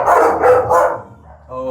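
Several dogs, including a Rottweiler and a Cane Corso, bark in short loud bursts at close range, three strong barks in quick succession followed by a softer yip, with people talking around them.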